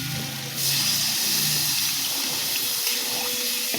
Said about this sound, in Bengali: এত ভালো করে কষে গেছে, তো আমি এর মধ্যে দিয়ে দেবো এবার জল